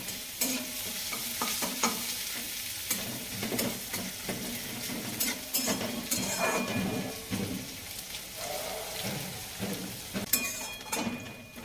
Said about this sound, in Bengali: পেঁয়াজটাকে একটুখানি হালকা হালকা একদম লাল লাল হবে যখন, ততক্ষণ ভাজবো।